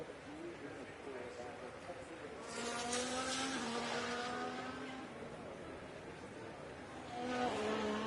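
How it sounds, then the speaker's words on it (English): Race car engines in F1 Manager 24 drone in the background, with rising pitched whines sweeping past from about 2.5 to 5 seconds and again near the end, low and distant under faint ambient noise. "those engine noises you're hearing, that's not our car, that's just background noise"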